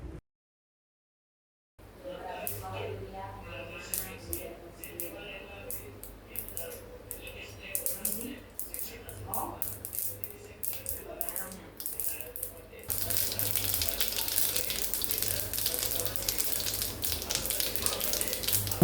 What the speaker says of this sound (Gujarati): અને રાઈને બરાબર ફૂટવા દેશું।